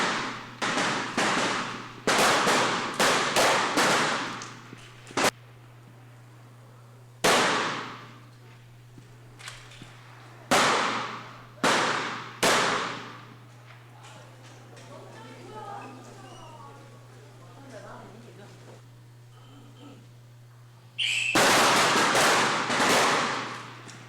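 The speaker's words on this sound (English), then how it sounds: "A huge difference in the pace of the shooting in the rapid fire compared to the precision fire event" Sharp gunshots crack out in quick bursts at a rapid-fire shooting competition, several close together then spaced singles, over a steady low hum, with a quieter stretch of faint background activity before another loud volley.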